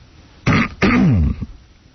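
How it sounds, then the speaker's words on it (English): A person clears their throat twice in close, rough bursts, the second longer and more strained, followed by a brief low grunt. "I can't clear my throat."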